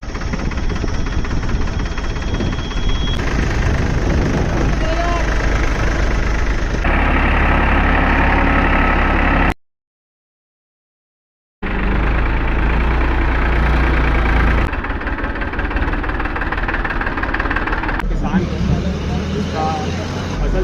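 A tractor engine rumbles steadily at idle, loud and close, cutting out briefly partway through before starting up again.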